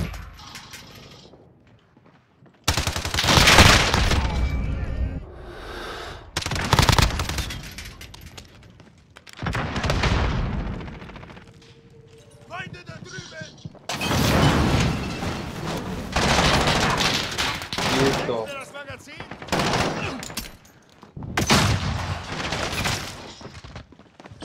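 Gunfire in the first-person shooter Call of Duty Modern Warfare, with loud bursts of automatic fire and single shots coming in clusters, mixed with weapon handling clicks and short pauses between exchanges.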